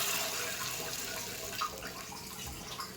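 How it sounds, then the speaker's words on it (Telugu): Water is poured into a pan of tomato, onion and chana dal curry with ground coriander and chili, giving a faint, continuous splashing trickle with no talking. "కొన్ని వాటర్ పోసేస్తున్నాం."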